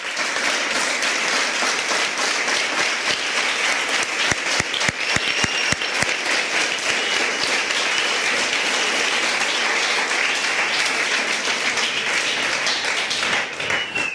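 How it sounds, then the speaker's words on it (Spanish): A church congregation gives a strong, sustained round of applause, many hands clapping densely and evenly throughout with a few sharper claps standing out. "Dele un fuerte aplauso al Señor."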